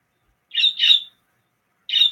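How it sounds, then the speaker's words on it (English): Harsh squawks from pet birds, loud and close: a quick double call, a pause of nearly a second, then another squawk. "I think I realized why my birds are so loud."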